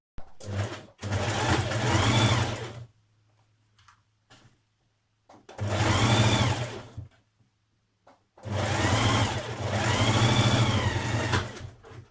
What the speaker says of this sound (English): Now we're going to stitch these in.